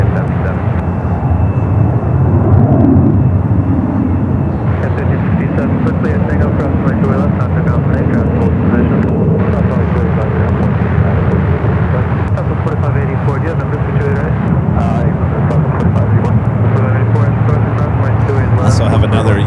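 Airliner jet engines at San Francisco airport, a continuous loud roar and rumble of aircraft on the ground and taking off, steady throughout with a voice talking over it.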